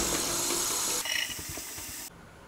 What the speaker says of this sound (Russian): Заливаем водой.